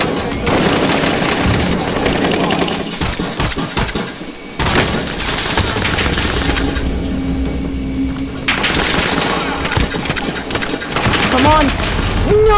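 Call of Duty: Modern Warfare gameplay with loud, dense bursts of automatic and pistol fire in a team deathmatch, rapid cracks and booms nearly nonstop, with a player talking over the shooting.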